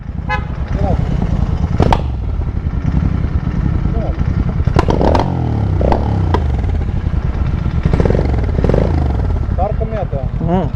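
A Royal Enfield Interceptor 650 motorcycle engine misfires, its uneven low rumble broken by a few sharp pops, with voices talking and horn-like tones from traffic nearby.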